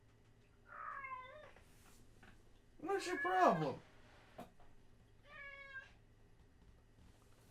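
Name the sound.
cat meowing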